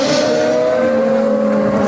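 A Mercedes DTM race car engine at the Zandvoort circuit screams loudly at high revs, a sustained sharp tone that shifts slightly in pitch as the car passes close.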